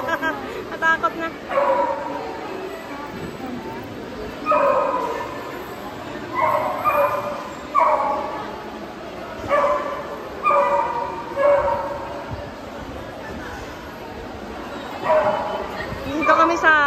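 A dog barks in short yips and bow-wows alongside whimpers, in repeated bursts at a pet anti-rabies vaccination event at a clubhouse in Cainta, with voices and crowd babble around it.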